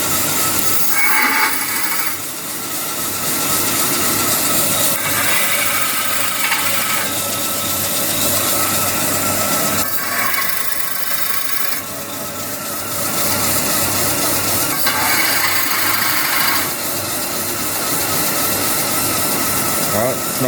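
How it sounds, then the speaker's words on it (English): A crank grinder machines a Harley-Davidson cylinder sleeve in a shop, a steady grinding whir that repeats in cycles of several seconds, with a brighter scraping note at intervals. "The beauty of having a crank grinder in the shop"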